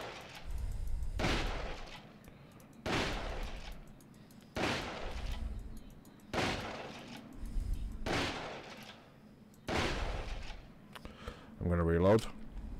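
A shotgun firing in Resident Evil Village, seven heavy booming blasts spaced about every one and a half seconds, each with a decaying tail, followed by a short mechanical rattle at the end.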